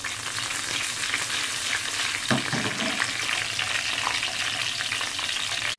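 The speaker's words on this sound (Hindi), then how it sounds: "देखिए चार लाल मिर्च है, एक चम्मच जीरा है, पांच चम्मच राई है" Four red chilies, a spoon of cumin and five spoons of mustard seeds hit hot oil for a dahi vada tempering, a loud, dense, continuous sizzle with brief crackling bursts that cuts off sharply at the end.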